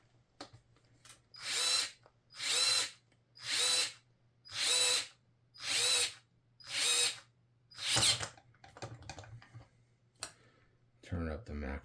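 A cordless drill drives screws into a Hobao VTE2 RC car chassis, giving seven near, loud, evenly spaced whirring bursts with short pauses between them, followed by a few clicks and some brief talk at the end.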